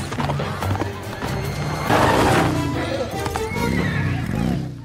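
A horse whinnies loudly amid clattering hoofbeats and busy background noise, with a voice speaking over part of it.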